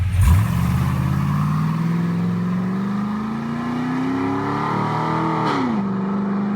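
An LS V8 engine in a K30 Blazer truck revs up close and loud, pitch rising steadily through a long pull, then dropping back to a steady idle-like drone.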